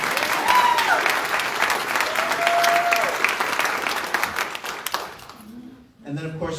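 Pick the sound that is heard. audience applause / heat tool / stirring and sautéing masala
audience applause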